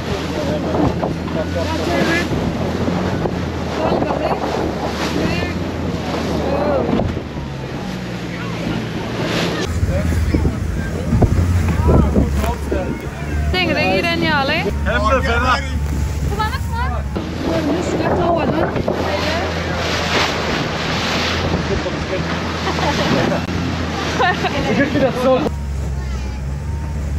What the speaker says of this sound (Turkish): Dalgalar.